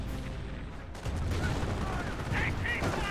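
Nebelwerfer rocket artillery barrage in Company of Heroes, a steady roar of launches and explosions rumbling continuously over the battlefield, with a commentator talking over it.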